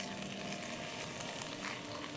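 Food caramelizing in butter in a hot pan gives a steady, dense sizzle with faint crackling, close and continuous throughout.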